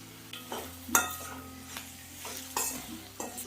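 Green chillies with chilli powder get stirred in a pan, a soft background sizzle broken by scattered scrapes and taps of the spoon, quiet and close.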